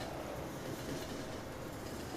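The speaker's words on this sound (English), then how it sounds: "Hey, Mr. Freight Train." A freight train rolls past in the farming game Farming Simulator 17, a steady rumbling wash of rail noise with a faint clickety-clack of wagons, continuous and fairly close with no talking.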